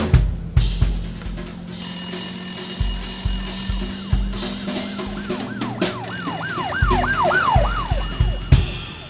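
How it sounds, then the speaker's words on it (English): An office telephone rings in repeated electronic warbling bursts, loud and close, set within a comedic audio mystery story with layered sound effects and no talking. "The telephone in Karl Karma's office rang."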